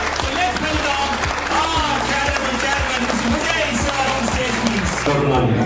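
An inauguration audience applauds warmly to welcome the company chairman, dense sustained clapping from a crowd with steady thumps running under it.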